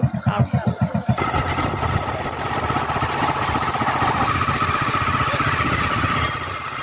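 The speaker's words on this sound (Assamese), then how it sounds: "কৃষ্ণদা এয়া বাইকত উঠিলে মই উঠি লওঁ এতিয়া অলপ ফুৰিবলৈ যাম" A motorcycle carrying riders through a village, its engine chugging in quick pulses at first and then settling into a steady, close, continuous drone.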